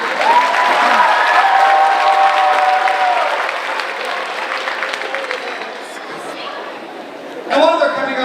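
An audience at a Veterans Day event claps loudly and steadily for several seconds. The applause fades into scattered claps and chatter, then a short burst of clapping returns at the end.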